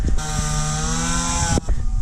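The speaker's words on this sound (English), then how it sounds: "my neighbor decided to weed whack his lawn" A loud, high-pitched string trimmer motor whines steadily for over a second while cutting a lawn nearby, then cuts off abruptly.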